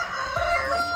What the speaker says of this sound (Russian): О, петух орёт.